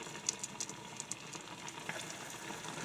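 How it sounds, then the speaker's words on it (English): Steady crackling sizzle of keto doughnuts frying in hot coconut oil, with sharp pops and spits breaking through, heard close up without any talking. "So you get them in there frying really good."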